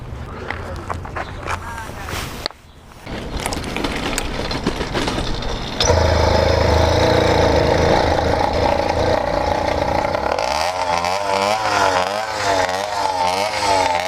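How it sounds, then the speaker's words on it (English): A motorcycle engine runs and revs while someone talks over it, growing louder partway through, with rising and falling revs near the end. "I normally ride around with a fairly quiet exhaust on this particular bike"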